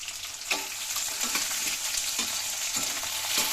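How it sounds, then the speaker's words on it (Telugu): Tomatoes frying in a pan for a chicken gravy, a steady close sizzle running throughout with a few soft stirring scrapes, no voices. "టమాటా బాగా బాగా ఫ్రై కావాలండి"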